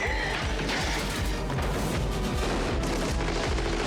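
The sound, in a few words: 9mm submachine gun shooting sunflowers in a glass vase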